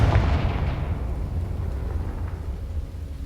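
A Confringo fire spell exploding in Hogwarts Legacy, a loud deep blast at the start trailing off into a long rumbling decay.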